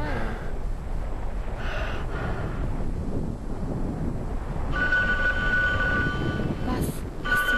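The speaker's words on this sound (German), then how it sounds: "Was? Das Telefon?" A telephone rings in the video game The Apartment, a bright electronic ring that begins partway through and repeats over a dense, noisy game background, with a voice talking alongside.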